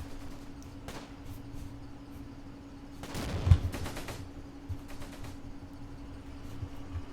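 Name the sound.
gunfire in a video game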